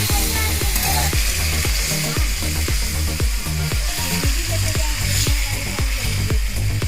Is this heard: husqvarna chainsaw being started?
no